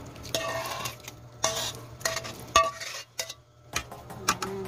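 Beef caldereta browns in a pressure cooker, giving a steady sizzle under brisk stirring with metallic scrapes and clinks against the pot, close and fairly loud.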